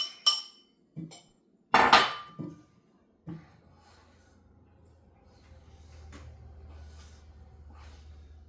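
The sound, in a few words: mixing pancake batter of eggs, apple cider and sourdough starter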